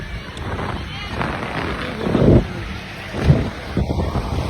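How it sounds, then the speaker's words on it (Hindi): An ocean wave rolls in at a Mumbai beach, surging twice over buffeting wind noise on the microphone, with people's voices nearby. "लहर आ रहा है"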